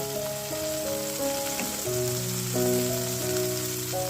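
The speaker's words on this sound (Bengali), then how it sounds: "আমি এর মধ্যে দিয়ে দেব এই পেঁয়াজ কলিগুলো" Sizzling and frying hiss from onion shoots (spring onion stalks) being cooked in a pan, steady and close, with a sustained musical melody running over it throughout.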